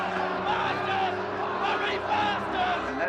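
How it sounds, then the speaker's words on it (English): Cricket crowd at a match roaring and bellowing in a sustained, dense wave of voices after a batsman is struck in the midriff by a short-pitched bouncer. "And no doubt here the crowd's reaction to that."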